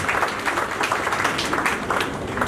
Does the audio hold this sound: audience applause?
yes